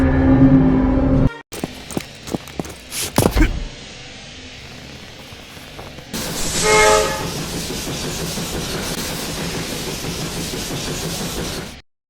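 A train passing in the video game Strike Force Heroes: a dense, steady rumble and clatter fills the second half, following a run of short game effects, with no talking.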